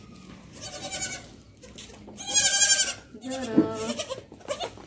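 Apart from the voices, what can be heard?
goat bleating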